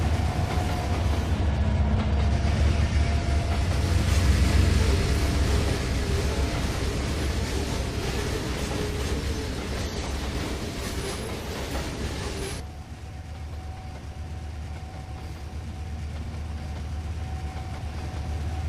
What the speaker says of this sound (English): That is one long train.